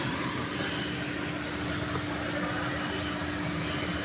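A Toyota Hilux engine with a damaged turbo fin runs in a steady, loud drone with a constant whining tone through it, close and unbroken, with no talk.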